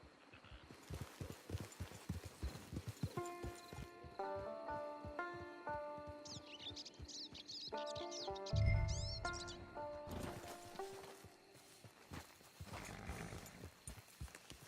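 A horse gallops in the Red Dead Online video game, with steady rapid hoofbeats at mid distance under game music and bird chirps. A brief heavier thump falls partway through.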